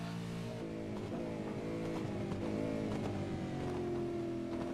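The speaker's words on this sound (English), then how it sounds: "I love hearing these cars chew their way down through the gears nicely as well" V8 Supercar race cars at Interlagos drone loudly and continuously, the engine note stepping down in pitch as they work down through the gears.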